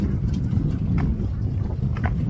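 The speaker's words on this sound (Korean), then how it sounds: "바람이 참 기분이 좋다." Steady wind rushes and buffets the microphone beside the sea in South Korea's Sinan Purple Island area, a continuous loud roar with no voices.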